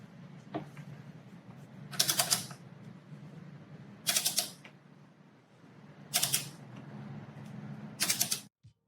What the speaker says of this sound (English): For this, I'll use the large torque wrench with an 8mm Allen bit